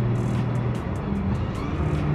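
A turbocharged car engine revs steadily and loudly up close for a couple of seconds, a continuous mechanical roar with faint rhythmic pulses and no talking.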